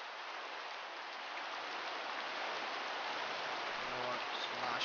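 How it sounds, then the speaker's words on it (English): Rain falling in the Minecraft video game makes a continuous, even hiss that stays constant from start to finish, with faint low tones near the end. "Why does it have to rain?"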